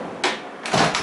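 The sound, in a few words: door closing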